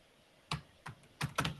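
Four or five separate keystrokes on a computer keyboard that is acting up, the clicks sharp and close, irregularly spaced over a quiet room background.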